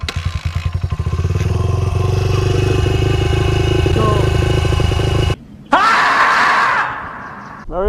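A dirt bike engine runs steadily and loudly at close range with constant revving, cutting out briefly near the end before a sharp rev returns and then fades.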